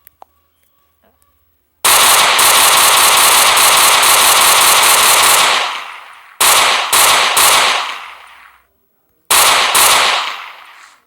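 Rapid automatic rifle fire from a Minecraft PE gun mod, loud close bursts: one long burst of about four seconds, then several short bursts and a final burst.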